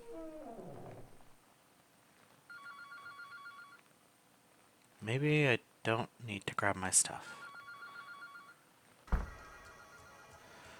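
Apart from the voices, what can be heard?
telephone ringing in video game Anthology of the Killer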